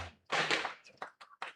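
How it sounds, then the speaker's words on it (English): Fireworks near a minor-league baseball game, a loud booming burst followed by a few sharper pops at a distance, alone without talk. "Those are fireworks."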